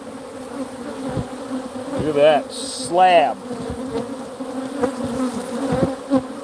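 Honey bees hum steadily in an opened hive holding brood and drones in mid-December, a dense close buzz that runs throughout while someone talks over it in short bursts.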